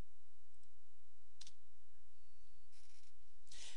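A computer mouse clicking while setting up a Windows 3.1 installation: a few sparse, sharp, faint clicks spread over a few seconds against steady machine hum, with no talk.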